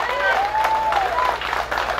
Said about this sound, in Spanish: a quien pido un fuerte aplauso